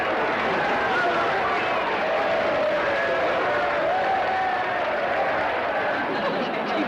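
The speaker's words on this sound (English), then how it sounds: "This crowd is going wild." Wrestling arena crowd roaring after a match ends, dense sustained cheering and applause with overlapping shouted voices, loud and steady throughout with no pauses.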